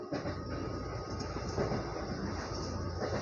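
Steady rumble and rattle inside a crowded, air-conditioned commuter train carriage on the move, a continuous broadband drone with faint clatter throughout and no voices.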